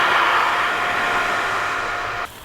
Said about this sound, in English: Last thing we got to do is drop the hose into the pond and turn the pump on.